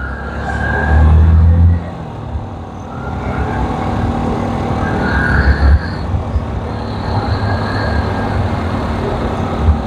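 Steady road traffic rumbles past on a quiet Quezon City side street, with engines humming and a louder vehicle passing near the start, continuous and close.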